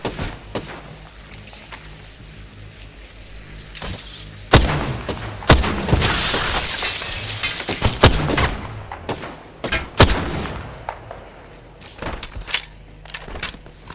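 Gunfire in a battle royale video game comes as scattered sharp shots and thuds, some in quick pairs, over a low background rumble.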